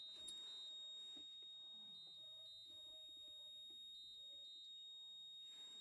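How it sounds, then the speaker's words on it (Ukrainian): Electronic warning beeps from farm machinery during soybean sowing in a field, short high repeated tones in pairs at a steady rhythm, faint against a low constant hum, with no talking. "чого воно зараз пищить?"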